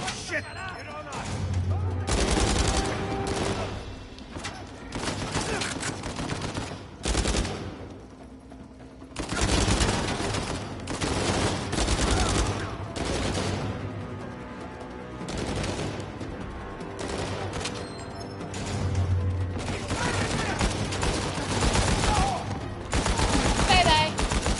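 Video game gunfire from Uncharted 4 rattles through a heavy firefight, repeated bursts and single shots with booming impacts over music and shouted voices, loud and dense throughout.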